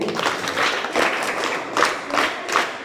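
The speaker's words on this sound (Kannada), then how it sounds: "ಎಲ್ಲ ಜೋರಾಗಿ ಒಂದು ಚಪ್ಪಾಳೆ ತಟ್ಟಿ" Audience applause rings out at a Nasha Mukt Bharat anti-drug awareness event led by a police sub-inspector, steady clapping from many hands swelling in waves for about three seconds.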